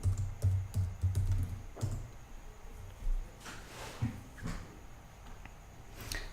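Keys tapped on a computer keyboard while a password is entered in a Linux desktop terminal, a quick irregular run of close clicks that slows into sparse taps, with no voices.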